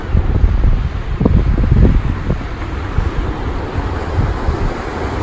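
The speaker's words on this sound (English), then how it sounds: "The beautiful sound of the sea." Sea waves roar and wash continuously, loud and rough, with buffeting wind gusts strongest early on, then settling into a steady rush.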